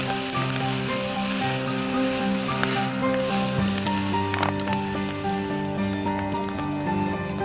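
Italian sausages fry in a pan with a steady, close sizzle and crackle that runs unbroken from start to finish, holding an even loudness with no voices.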